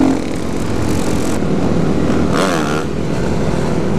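A KTM supermoto motorcycle engine revs hard and continuously during a wheelie on a group supermoto ride, loud and close throughout with a rising whine partway through.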